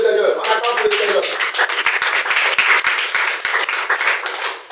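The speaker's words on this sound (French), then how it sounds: "On acclame pour le Seigneur" A church congregation claps in steady rhythm while praising the Lord, sharp overlapping claps running throughout over loud sung or shouted voices.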